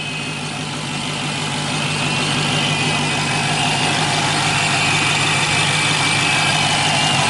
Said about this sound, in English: Recognize the Hemi power